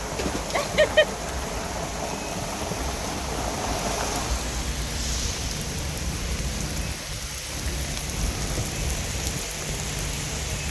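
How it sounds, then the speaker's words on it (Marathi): A heavy downpour drums steadily on surfaces close by, a dense continuous hiss that holds throughout, with a few brief knocks near the start and no clear talk. "बघा पाऊस आला पाऊस आहे"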